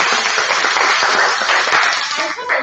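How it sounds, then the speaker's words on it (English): Members at a Toastmasters club meeting give a round of applause, a loud, dense wash of clapping that holds steady for a couple of seconds before tapering slightly. "another great applause for her on that"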